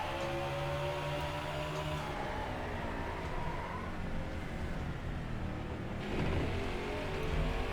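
Stock car engine in the NASCAR Heat 5 racing game at Martinsville, a steady droning roar with pitch shifting as the car decelerates and accelerates, rather quiet and continuous with no talking.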